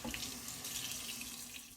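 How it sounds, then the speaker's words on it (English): Steady water runs from a kitchen tap while kimchi cabbage is rinsed under it, a continuous close splashing stream lasting just under two seconds. "I rinsed off everything and squeezed it out as much as possible"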